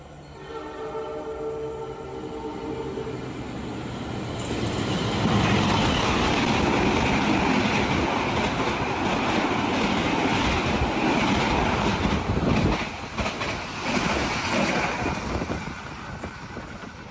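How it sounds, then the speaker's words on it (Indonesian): A Sembrani express train speeds through Pemalang station in Indonesia, its horn sounding first before a loud rush of wheels and clattering carriages builds and holds close by. "barusan itu kereta api Sembrani lewat ngebut banget"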